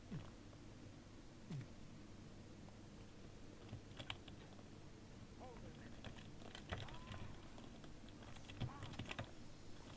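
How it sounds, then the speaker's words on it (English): Computer keyboard keys clatter in quick irregular bursts, faint and close, picked up by a desk microphone during a Thief Gold gaming session, with soft talking now and then. "which is why you're able to hear my keystrokes"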